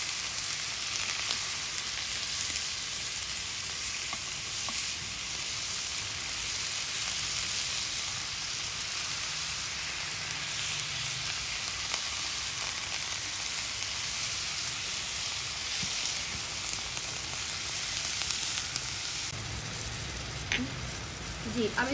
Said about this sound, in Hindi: अब इसमें हम शामिल कर देंगे हमारा कीमा। अब इसको हम अच्छे से भूनेंगे।